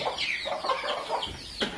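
Three broody hens clucking close by in a run of short, soft calls, with a few higher chirps from their newly hatched chicks mixed in.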